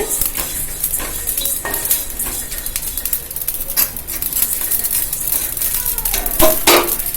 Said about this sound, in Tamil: மிளகு, சீரகம், வெந்தயம் 3யுமே இப்படி போட்டு இப்போ வறுத்துக்கிட்டு இருக்கேன். சீரகம் பொரியுது.